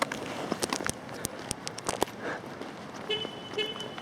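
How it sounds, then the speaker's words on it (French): A car horn sounds in a crowded parking lot near Lake Louise: two short, fairly distant toots near the end, after crunchy footstep-like clicks. "il suffit de faire klaxonner sa voiture"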